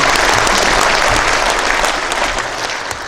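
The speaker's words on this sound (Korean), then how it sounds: "박수 한번 해주세요" Loud, dense applause from a congregation at a national elders' union prayer service in a church, a continuous roar of many hands that eases off slightly toward the end.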